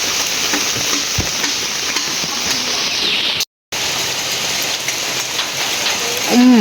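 Steady rain falls over a remote misty village, a dense, even hiss of drops on surfaces that runs without pause apart from one brief dropout, with a few faint incidental knocks nearby.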